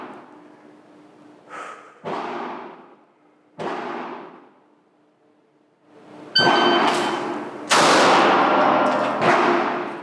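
Pistol shots ring off steel targets in a tunnel as sharp, loud cracks with metallic clangs and long echoing tails. A few spaced shots are followed by a rapid closer string.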